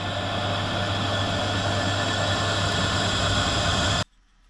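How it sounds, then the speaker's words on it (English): A power drill bores holes into a welded metal cap for a chainsaw-powered Thai longtail boat build, producing a steady, loud, whining drone for about four seconds before cutting off to near silence. "Just drill a few extra holes in this first."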